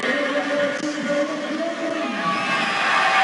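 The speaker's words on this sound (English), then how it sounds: "Listen to the crowd when he gets the ball in the open prairies." Rugby sevens stadium crowd at the Hong Kong Sevens, a steady broad roar of cheering that swells slightly, heard at a distance without any close voices.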